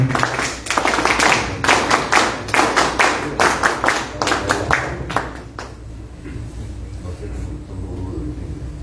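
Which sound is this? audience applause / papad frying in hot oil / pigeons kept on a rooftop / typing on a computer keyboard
audience applause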